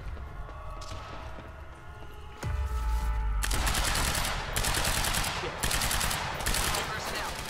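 Guards open fire in the video game Quantum Break: sustained automatic gunfire bursts kick in after a heavy thump, loud and close, repeating in rapid volleys over a humming background.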